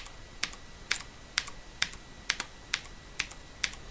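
Computer keyboard keys tapped one at a time in a steady beat, about every half second, to set the tempo for a Guitar Hero 3 chart editor; crisp, close clicks with no talk.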